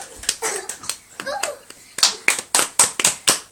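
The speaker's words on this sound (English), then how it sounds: "They're still clapping." A few hands clap in a sparse patter at a Christmas play's final curtain call, then a handful of sharp, evenly spaced claps, with a voice talking briefly.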